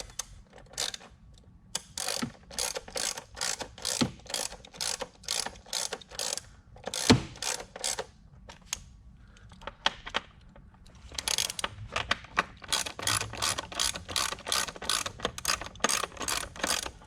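Ratchet tightening bolts on an oil separator fitted to a 2021-2026 Ford F-150 PowerBoost, close rapid clicking in repeated bursts with short pauses between strokes, crisp and clear, no voices.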